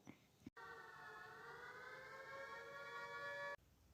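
An air raid alarm siren wails steadily for about three seconds, cut in abruptly and stopped just as abruptly, with a brief voice heard before it starts.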